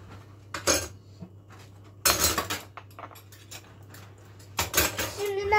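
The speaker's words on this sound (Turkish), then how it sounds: "Şimdi o dutun kirli olan tabaklarını ver bana. Yıkayayım anneciğim." Dirty plates that held mulberries being washed, with close clinks and clatters of dishes and cutlery in a few bursts among quieter handling, and someone talking briefly.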